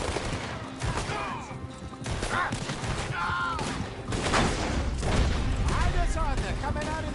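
Gunfire in the western game Red Dead Redemption 2, a sustained exchange of repeated rifle and pistol shots in irregular bursts, loud and close, with voices shouting between the shots.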